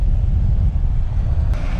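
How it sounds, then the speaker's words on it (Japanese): Sea waves rush in around someone wading while shore fishing for grouper on Okinawa's southern coast, a loud continuous wash mixed with wind buffeting the microphone. "あー、波が来ちゃった。"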